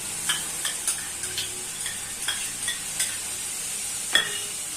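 Onion paste fried in a pan for a fish curry, giving a soft steady sizzle broken by regular light clicks and scrapes of a stirring spoon against the pan.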